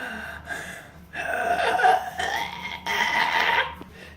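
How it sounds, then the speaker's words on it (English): A person demonstrates deep breathing through the nose, drawing several long audible inhales and exhales in a close, breathy rhythm over a few seconds, with no speech. "It needs to be a deep breath."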